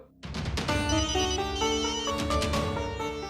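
A telephone rings with a bright electronic ringtone, its repeating melodic tones starting abruptly and sounding loud and close, continuing steadily throughout with no talking.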